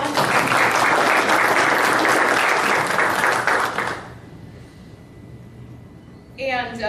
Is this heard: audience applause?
yes